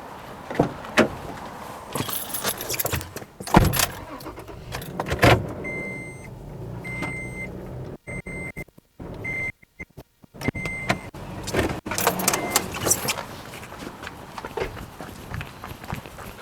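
A Toyota Tacoma pickup fitted with a Softopper pulls away, with a door shutting, a brief electric whine and engine running close by before the vehicle rolls off, all without talk.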